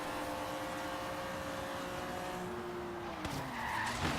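A powerful BMW's rear tires spinning and skidding in the Forza Horizon 3 racing game, producing a sustained loud tire squeal over the engine's drone that bends downward near the end.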